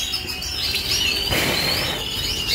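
A female songbird, likely a show bird, chirps in faint high, thin bursts over a steady, hissy room noise, with one brief louder rustle partway through.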